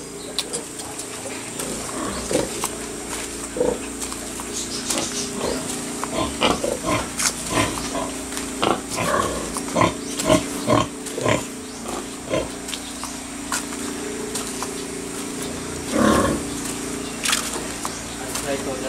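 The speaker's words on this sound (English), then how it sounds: "These piglets look good." A litter of newborn piglets oinks and squeals in repeated short bursts, close and fairly loud, with a person talking intermittently over them.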